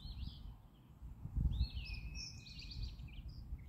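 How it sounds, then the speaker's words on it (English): Birds chirp and twitter in high, sweeping calls over a low outdoor rumble, with several overlapping songs throughout. "I hear the birds chirping."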